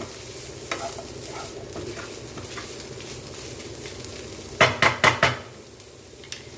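Broccoli with masala sautéing in a pan, a low steady sizzle under occasional stirring scrapes, then a quick run of four sharp spoon knocks against the pan before the frying settles back.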